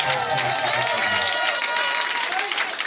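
A church congregation applauding to acclaim the president, dense, loud and continuous clapping from a large crowd filling the room, with voices mixed in.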